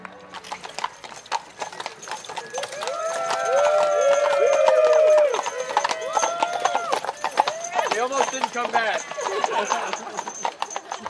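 Horses at a ranch, hooves clip-clopping in a steady walking rhythm with whinnies and neighs rising over the top, while people talk nearby.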